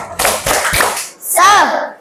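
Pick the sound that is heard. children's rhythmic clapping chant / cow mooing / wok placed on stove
children's rhythmic clapping chant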